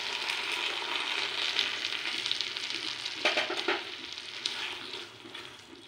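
Chilli sauce for restaurant-style chilli mushroom bubbles and sizzles in a pan over a high flame while being stirred constantly, a steady close frying hiss with a burst of scraping around the middle, no voices.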